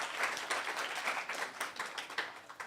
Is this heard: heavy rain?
no